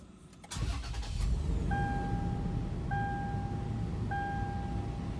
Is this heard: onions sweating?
no